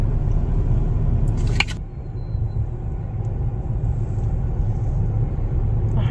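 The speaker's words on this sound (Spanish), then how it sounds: "Ahí viene otro carro." A car rolls up to a weigh station, giving a steady low rumble that holds throughout. A brief bright clatter cuts in near the start, then the motor noise dips slightly and carries on.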